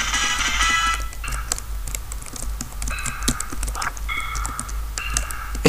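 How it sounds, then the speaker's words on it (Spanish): A computer keyboard clatters with rapid, uneven keystrokes, close and fairly loud, with brief pauses between bursts over quiet background game music. "El teclado, ahí está."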